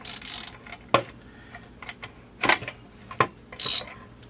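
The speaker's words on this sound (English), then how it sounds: "Reverse your ratchet." A ratchet turns the crankshaft of a Husqvarna 372 chainsaw, making short bursts of sharp mechanical clicking separated by brief pauses, close up with no voices.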